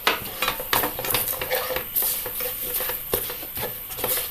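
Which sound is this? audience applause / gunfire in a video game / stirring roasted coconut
stirring roasted coconut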